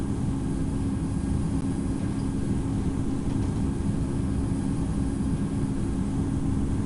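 Qantas 302 Heavy, an airliner, rolls for takeoff on runway 17. It makes a continuous loud engine roar and rumble, steady and close, with no voices.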